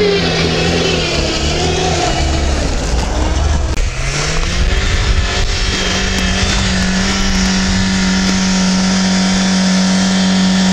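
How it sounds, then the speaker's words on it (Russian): A 4WD vehicle climbs a muddy uphill track with its wheels spinning, the engine revving and straining loudly and close throughout, its pitch rising and falling, with a sustained high whine later on. "Уже грязь, колеса пробуксовывают сильно."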